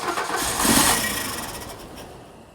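VW Fox engine cranking with fuel injection trouble, a close whirring starter churn that swells briefly then fades steadily without catching.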